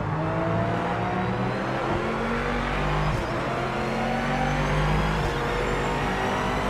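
A racing video game car engine drones loud and continuous, a steady high whine with shifting pitch as the car drives on, with no talk over it.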